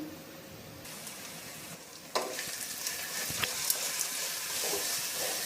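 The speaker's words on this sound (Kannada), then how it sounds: "ಸ್ವಲ್ಪ ಹಸಿ ವಾಸನೆ ಹೋಗೋ ತನಕ ಸ್ವಲ್ಪ ಎಣ್ಣೆ ಒಗ್ಗರಣೆನಲ್ಲಿ ಫ್ರೈ ಮಾಡ್ಕೊಳ್ಬೇಕು" Ground masala paste frying in an oil tempering with onions: a quieter sizzle swells into a louder, crackling hiss about two seconds in, with occasional stirring clatters and no speech.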